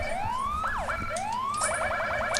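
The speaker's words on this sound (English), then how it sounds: "it alternates the siren between every single one of them" Police siren from an ELS emergency lighting mod in a video game, cycling through tones: a rising wail, a quick swooping yelp, then a rapid repeating yelp pattern, loud and continuous with no talking.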